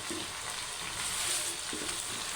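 Tomatoes are stirred into chicken gobi frying in a pan, with a steady, close sizzle and occasional soft stirring scrapes underneath.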